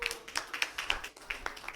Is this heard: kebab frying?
no